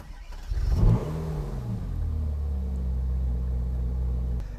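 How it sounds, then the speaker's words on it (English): A Ferrari 458 Speciale engine fires up with a sharp starter catch and revving burst, then settles into a loud, steady, deep idle rumble close by. "then you can actually hit the engine start button to start this automobile"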